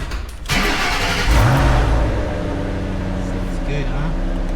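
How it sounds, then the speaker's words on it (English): A 2007 Shelby GT500 SVT Mustang, S197 generation, makes a cold start heard from inside the cabin with the windows down. It cranks briefly, catches with a deep roar that swells, then settles into a loud rumbling idle. "I'm gonna start this up. You'll hear a cold start from the inside."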